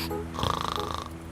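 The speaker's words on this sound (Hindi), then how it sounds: "मुझे भी तुम्हारे खराटे की आवाज सुनने का कोई शौक नहीं है।" A single loud snore lasting about a second, a rough rattling inhale with a pulsing, buzzy texture, heard close up and alone.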